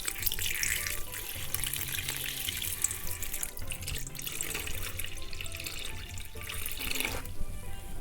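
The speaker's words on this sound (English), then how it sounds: "Just pour enough water over the top of your dough to completely cover it" Distilled water poured over a spelt dough ball until it is covered, a steady close splashing pour that runs on without a break and then thins toward the end.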